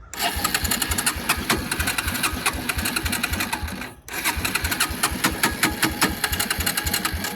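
An old $400 Suzuki quad's engine cranks loudly with a fast, even chugging rhythm, stops briefly, then cranks again, but it does not clearly catch and run.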